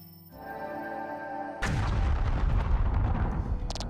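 A force impact attack in the Voice of Cards card game bursts into a sudden heavy boom after a sustained musical tone, followed by a rumbling, crackling explosion tail.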